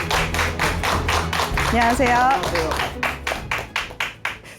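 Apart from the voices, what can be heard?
studio audience applause welcoming guest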